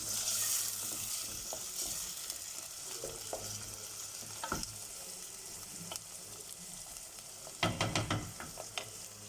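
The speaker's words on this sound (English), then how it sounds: "We just stir up the mix." Red, green and yellow peppers with garlic frying in a pan for lasagna, a soft steady sizzle with scattered stirring scrapes and a quick burst of clatter near the end, no talking.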